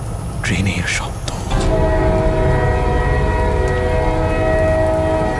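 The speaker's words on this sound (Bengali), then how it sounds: "নিশুতি রাতে স্পষ্ট শুনলাম ট্রেনের শব্দ।" Train sound effect in a Bengali horror audio story: a loud, sustained train horn blares over rumbling rail noise, with a narrator's voice heard briefly near the start.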